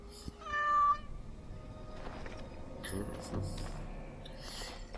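A cat meows once in the video game Dragon Age: Origins - Awakening, a short, clear call near the start, followed by quieter in-game rustles and clatter.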